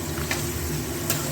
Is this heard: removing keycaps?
no